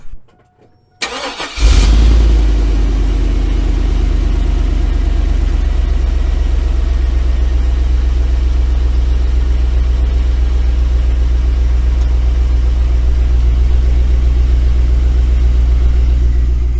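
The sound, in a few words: car engine starting and running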